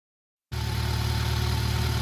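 A Yamaha FJR 1300 motorcycle engine, previously troubled by misfiring, starts up abruptly after silence and runs at a steady, smooth idle, loud and close with no voices.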